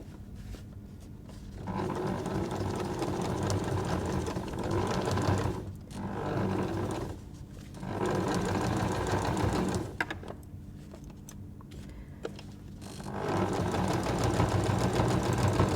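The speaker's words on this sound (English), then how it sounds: "I'm just going to sew so that this inside fold of the fabric is 1 mil to the left of it." A sewing machine stitches quilt fabric in steady, fast-whirring runs, stopping and restarting several times, close and loud with no talking.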